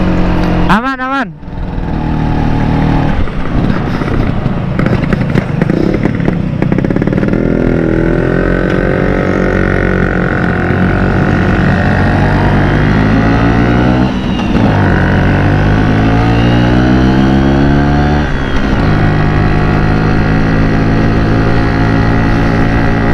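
A Vespa scooter rides along a road toward Naringgul in South Cianjur, its engine droning loud and close with rising and falling revs as it accelerates and shifts, a speaking voice heard briefly over it.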